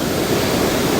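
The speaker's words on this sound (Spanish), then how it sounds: "un lugar en el que el río suena, y no solamente suena así como lo escuchan en este momento" Rushing water of the Gualí river, a loud, dense, continuous roar of flowing water heard close up with no voices.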